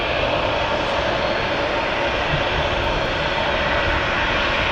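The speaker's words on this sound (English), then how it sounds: "Something's definitely taxiing out. I can hear it." An airliner taxiing at Manchester Airport, its engines a steady, broad roar at moderate distance that holds level throughout with no talk.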